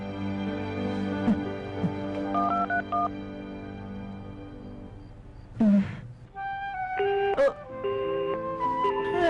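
Telephone keypad being dialed, a series of distinct tone beeps in uneven bursts, one after another, clear and close against quiet background music in an animated episode.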